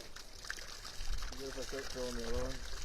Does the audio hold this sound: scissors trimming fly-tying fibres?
no